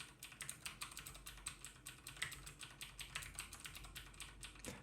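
Someone types rapidly on a mechanical keyboard with clicky Cherry MX Blue switches, placed about 30 centimeters behind the microphone. Its dense, even stream of sharp clicks comes through alone, with no talking.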